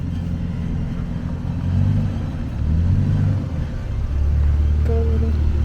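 Ford Ranger on 35-inch tires climbing rock on the 7 Mile Rim Trail in Moab, Utah, its engine rumbling low and swelling in several revving surges, near and steady.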